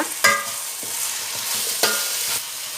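Tomato masala mix stirred in a frying pan, a soft sizzle under several scraping strokes of a spoon, close and fairly loud, with no talking.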